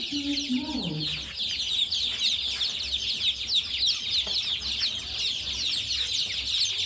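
Brahma chickens cluck steadily in a busy coop. A dense, continuous chatter of many birds sits close, with a brief descending call near the start and constant low background noise.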